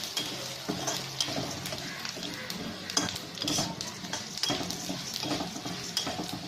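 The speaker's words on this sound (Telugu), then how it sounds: "ఇప్పుడు ధనియాలు వేసుకున్నాం, ఓకేనా. ఇది కూడా కొంచెం వేగించాం." Coriander seeds frying in a pan for curry leaf powder, with continuous close stirring and scraping over a light, crackling sizzle.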